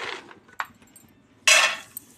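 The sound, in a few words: peanuts added to a bowl of oil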